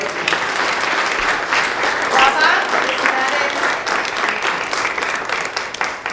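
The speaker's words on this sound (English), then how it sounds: "Please join me in a big round of applause for all of our recipients." Sustained applause from a large audience at an award ceremony, steady and dense clapping throughout with a faint murmur of voices underneath.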